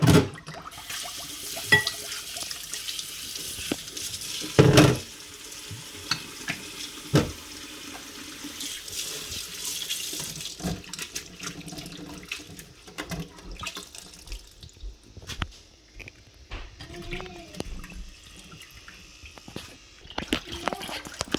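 Tap water runs steadily into a sink while a cicada is rinsed clean for cooking, a continuous hiss with splashes and handling clatter, fairly soft and close, with brief voices now and then.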